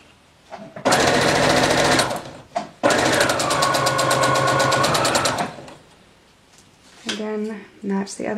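A sewing machine runs a rolled hem across a seam in two long, steady bursts, a brief pause between them, with a loud close whirring buzz; soft talk follows afterward.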